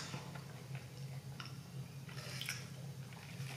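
Hungry Jacks French fries are chewed up close during a mukbang, soft wet squishing and light ticking bites that repeat at an uneven pace under a faint low hum.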